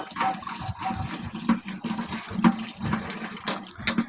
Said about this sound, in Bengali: এখন আমি ঝিঙ্গেগুলোকে ভালো করে ধুয়ে নেব